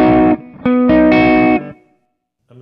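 Electric guitar played through a Kemper amp on a cleaner patch with the bass rolled off and reverb on: two sustained chords ringing out, a brief pause between, then a reverb tail fading and a soft new note at the end, no talking.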